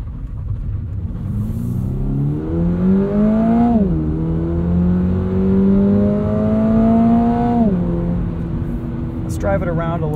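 A 2022 Subaru BRZ Premium with automatic transmission in sport mode, its engine heard from the cabin rising in pitch and dropping sharply twice as the gearbox shifts.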